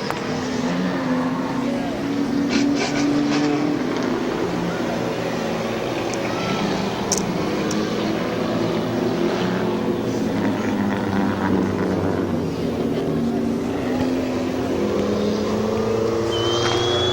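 Race cars at Midvale Speedway during a heat race, engines droning and revving steadily as the pack circles, moderately distant and continuous, with a track announcer talking over the noise.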